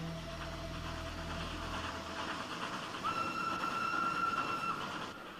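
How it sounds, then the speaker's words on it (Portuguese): A train on a steep mountain railway, the Nilgiri Express in India descending a steep grade, rumbles steadily and then sounds a sustained whistle near the end, with no talking. "o Expresso Milagiri, na Índia, desce uma das mais íngremes inclinações de ferrovia do mundo"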